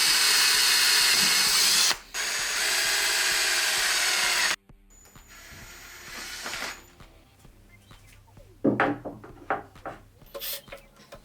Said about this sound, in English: What we're going to do is drill a hole in here